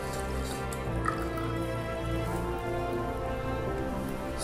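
Water drips and sponge-wetting sounds as decoupage paper is soaked onto a plate, a faint, close, uneven patter beneath a steady humming background.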